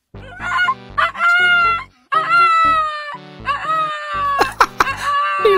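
A rooster crows loudly and close in several drawn-out, strained calls separated by short gaps, repeating over several seconds with no other sound.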